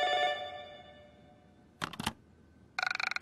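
A telephone in the Ju-On: The Grudge PC horror game rings with a fading electronic bell tone, followed by two separate bursts of rapid rattling trill, no one speaking.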